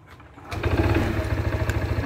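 A Honda PCX 160 scooter engine starts after a quiet moment and is throttled up, holding a steady, buzzing, fairly loud rev close by until the end.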